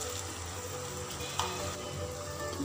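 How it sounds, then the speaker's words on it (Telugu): Okra frying in a pan gives a steady, close sizzle throughout, with no talking over it. "బెండకాయలు చాలా వరకు ఫ్రై అయిపోయినాయండి."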